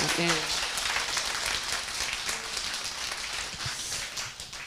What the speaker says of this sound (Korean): 본인을 위해서 큰 박수 한번 보내주시기 바라겠습니다